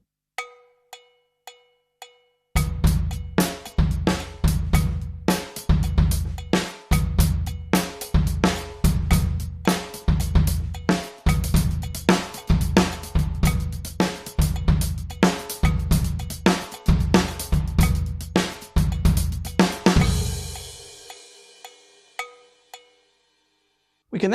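Drum kit plays an Indian-style rhythm grouped 9, 5, 9, 9, with a steady run of loud, dense strokes after a few soft count-in taps, ending with a ringing cymbal wash.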